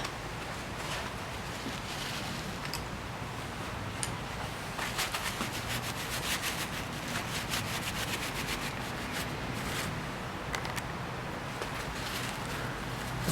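Rifle parts from a Mosin Nagant are wiped free of cosmoline grease with a cloth, producing continuous close rubbing and scrubbing noise with brief rhythmic strokes.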